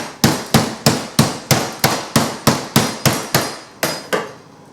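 A dozen evenly spaced, sharp thuds of a meat mallet pounding veal scaloppine flat on a board, loud and close, with no talking.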